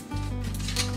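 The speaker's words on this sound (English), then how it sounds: "Now we gotta cut it open." Scissors snip open the brittle plastic packaging of a new-old-stock 1987 Visions Skillet V-6, giving a single short, close cut-and-crinkle.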